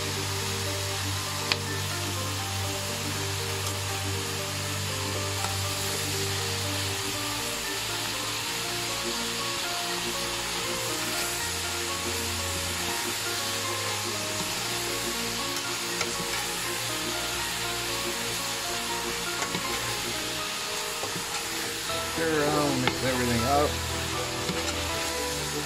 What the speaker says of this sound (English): Vegetables get a nice sauteed to them.